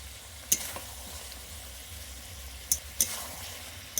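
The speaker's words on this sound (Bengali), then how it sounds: "মাংসটা কষানো হয়ে গেছে" Chicken for a chicken curry fries in a pan after being cooked down with spices. A low, even sizzle runs underneath, with a few sharp utensil clicks against the pan and no voices.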